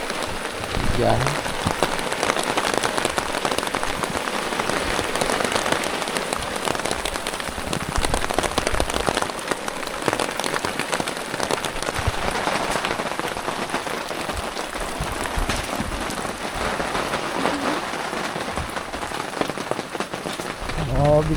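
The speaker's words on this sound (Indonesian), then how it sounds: "Mau bikin api unggun malah hujan." Continuous rainfall on a campsite among pine trees, an even, close hiss of drops that barely changes in loudness from start to finish, with faint voices in the background.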